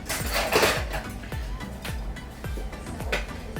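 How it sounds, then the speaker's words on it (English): A whisk beats cookie dough ingredients in a bowl, each stroke a quick scraping clink, about twice a second in a steady rhythm, close and clear. "So we're going to whisk that together."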